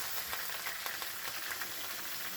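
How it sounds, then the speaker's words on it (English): Chicken frying in hot oil, a soft, steady sizzle and crackle running evenly throughout, fairly faint and close, with no talking. "As you can see, the chicken is getting fried."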